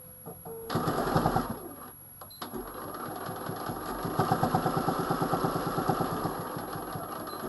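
A sewing machine stitches a fabric box, with a short rapid burst, a brief pause, then a longer steady run of fast, even stitching, close and fairly quiet.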